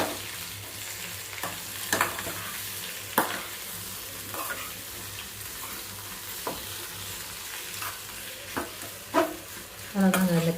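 A spoon scrapes and stirs cooked tapioca mixed with grated coconut in a pan, giving a steady close sizzle with repeated scraping strokes and clatter, louder toward the end.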